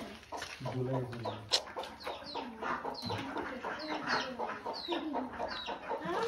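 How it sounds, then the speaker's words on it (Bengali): Several native village chickens cluck and squawk close by on a farm in a busy, overlapping chorus, with occasional sharper calls standing out. "এগুলো সব হচ্ছে দেশি মুরগি।"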